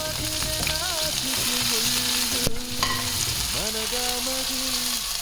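Onion sautéing with mustard seeds and cumin in a hot pan while preparing girmit, a steady close sizzle and frying hiss with stirring scrapes, no talking.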